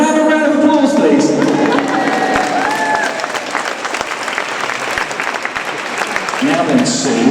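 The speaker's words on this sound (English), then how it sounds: "Could I have a round of applause, please?" An audience inside Peterborough Cathedral breaks into loud, sustained applause after a countdown, a dense clapping roar that rings in the large stone space, mixed with some cheering and voices.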